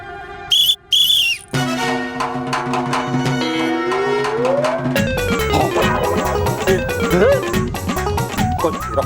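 A whistle blown in a superhero TV series, with loud sustained shrill tones, a brief piercing blast followed by longer warbling, sliding whistle notes over music.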